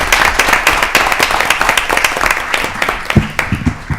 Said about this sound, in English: Let's give him another round of applause, and his parents.